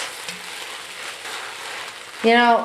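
Onions that have cooked about fifteen minutes fry softly in a pan after a spoonful of sugar goes in, a low steady sizzle close by that ends in a brief louder tonal burst.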